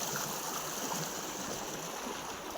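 Irrigation water flows through a farm field channel with a continuous, fairly loud gurgling rush that stays even from start to finish, close by and without voices.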